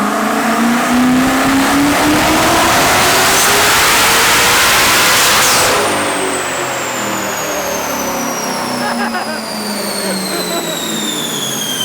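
Eight-turbo Mustang engine revving hard on a dyno, a loud sustained roar with rising pitch that eases slightly partway through, alone without talk.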